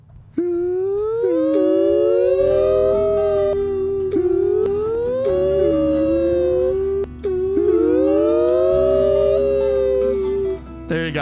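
A voice imitates a police siren with loud, close, rising and falling wails repeated in several long sweeps over a steady low hum.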